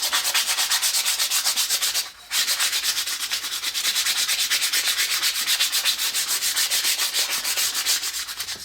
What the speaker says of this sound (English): just give it a light sanding just to take off any of the chunks and burrs